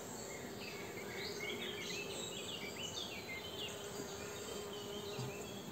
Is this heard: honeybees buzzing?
yes